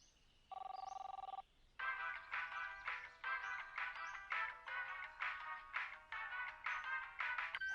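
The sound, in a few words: cartoon character's phone ringtone from Regular Show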